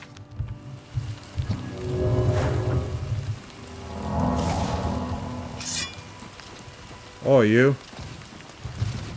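Steady rain hisses and patters across the outdoor world of the video game Oblivion Remastered, with voices talking over it and a short tonal cry rising near the end.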